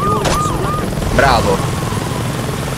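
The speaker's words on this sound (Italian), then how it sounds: "Gli elicotteri di sto gioco veramente fanno schifo" Helicopter in the Saints Row 2 video game whirs steadily beneath loud talk, and sharp tonal game effects sweep in and out.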